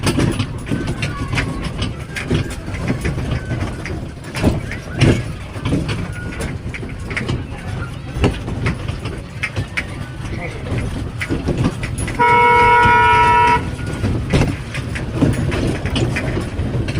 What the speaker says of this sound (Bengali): আমরা ট্রেনে করে যাচ্ছি।